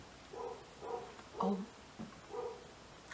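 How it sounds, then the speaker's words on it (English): A dog barks in the background of a home makeup session, several muffled, moderately distant woofs spaced about half a second apart, with a brief spoken exclamation. "We love a good barking dog in the background."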